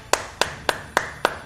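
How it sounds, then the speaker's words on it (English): Five sharp, evenly spaced hand claps, close and crisp, with a brief pause between each and a quiet background, during a slot-machine streaming session after a big win. "Clap it up, everybody."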